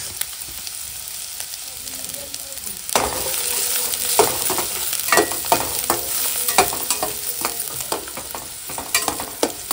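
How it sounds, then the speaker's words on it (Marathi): Onion is tempered and fried in a hot kadhai, starting with a quieter hiss, then a louder burst of sizzling about a third of the way in, followed by steady frying with repeated stirring scrapes up close. "सगळ्यात पहिला कांद्याला फोडणी द्यायची मस्त."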